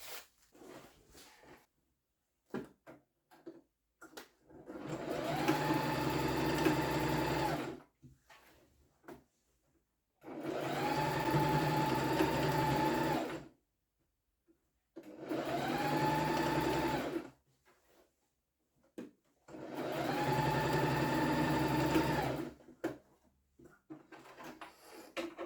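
Household sewing machine test-stitching red trouser fabric, running in four steady whirring bursts of about three to five seconds each, separated by short pauses with small clicks.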